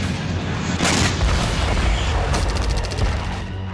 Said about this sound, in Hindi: रूस की आर्टिलरी यूनिट भी जबरदस्त तबाही मचा रही है।